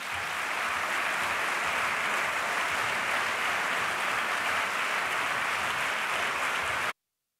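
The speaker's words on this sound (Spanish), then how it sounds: "Un fuerte aplauso." An audience at a public event applauds as people are called up onto a stage, a steady, even wash of clapping from start to finish before it cuts off abruptly, with no talk over it.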